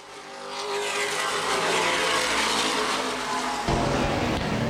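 Late model race cars race on a speedway, a sustained loud engine roar that builds in the first second and swells again near the end as cars pass close by.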